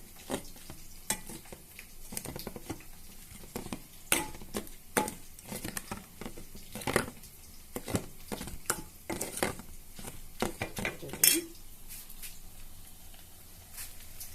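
Gram-flour pakoras fry in oil, a soft steady sizzle broken by frequent clicks and scrapes of a utensil against the pan, close by with no voices.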